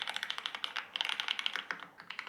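Rapid taps on the touchscreen keyboard of a Huawei P50 Pro phone, with crisp, quiet clicks in an uneven stream and a brief pause midway, close up and with no talking.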